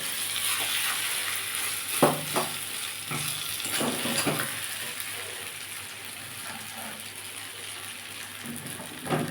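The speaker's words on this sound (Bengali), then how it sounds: "এটা অনেকক্ষণ ধরে ভাজতে হয় একটু টাইম লাগে করতে" Maan kochu (giant taro) paste frying in a pan and stirred constantly to keep it from sticking: a soft, continuous sizzle with a few distinct scraping strokes early on, then a quieter hiss, and no talking.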